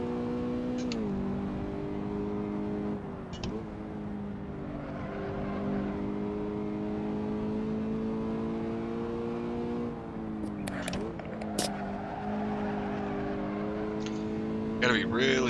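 Toyota GT86 engine in a racing video game at Zandvoort, a sustained droning engine note that drops in pitch with several downshifts, mid-level and continuous, with brief tyre and impact noises near the end and someone talking over it.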